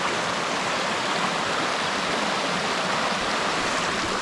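Creek water rushes loudly and steadily in a normally dry channel swollen by rain, a dense continuous roar with no pauses, close by and alone with no voices.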